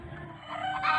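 Backyard chickens cluck close by in a short, steady burst of fowl calls rising slightly toward the end, with no talking over them.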